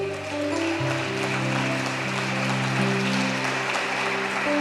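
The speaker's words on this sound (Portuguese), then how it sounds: "Aplauda o Senhor essa noite," A church congregation claps together in a dense, continuous roar of applause during a worship service, with sustained organ or keyboard tones running underneath.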